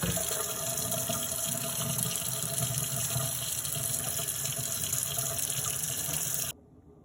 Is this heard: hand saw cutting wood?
no